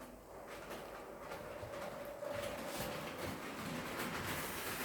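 An automated HO scale model train controlled by Lego bricks runs steadily nearby, giving a continuous mechanical rumble and light rolling rattle with faint clicks throughout.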